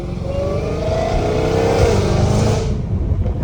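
A Dodge Hellcat Redeye with a full titanium valved, catless exhaust revs loudly and close, rising into a raspy, crisp roar that holds for a few seconds before easing off.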